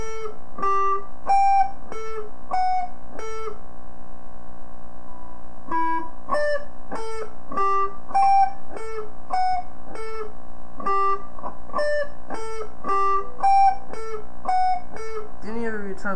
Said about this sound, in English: So I'm going to attempt to play this for you guys slowly. Okay, slowly. It sounds like this.